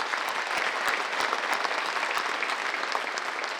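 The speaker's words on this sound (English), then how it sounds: "Let's have a round of applause for the families." An audience at a public safety awards ceremony gives dense, steady applause for the families, the clapping loud and continuous from start to finish.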